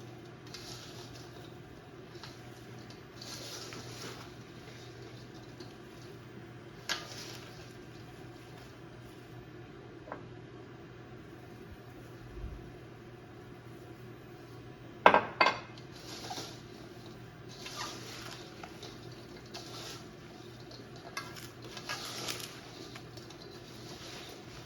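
Sliced cucumbers and onions get mixed in a bowl, producing faint scattered clinks and soft scraping against the bowl over a quiet background hum, with a brief cluster of louder knocks midway and no talking.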